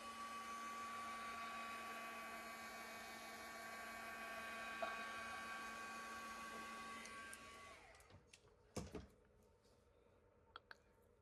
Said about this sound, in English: I'm going to go over that with my heat gun for just a little bit.